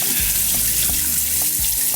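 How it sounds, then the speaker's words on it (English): Cold tap water gushes steadily over freshly cooked pasta in a sink, a continuous loud hiss with faint splashes and clinks underneath. "Just rinse it under the cold water."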